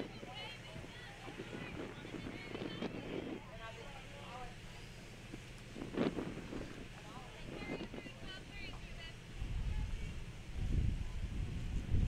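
A gust of wind sweeps across an outdoor softball field during a game, rumbling low against the microphone and swelling near the end, while a commentator talks over it.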